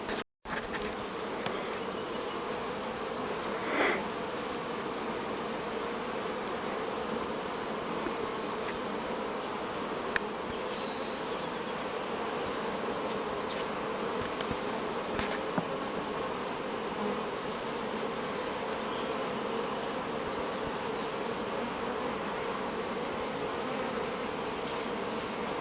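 Honeybees hum at an open top bar hive during spring management, a dense, steady buzz from many bees close by, continuous for the whole stretch with a few louder individual passes.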